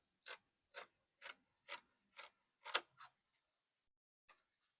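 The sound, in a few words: scissors cutting fabric for a kaftan dress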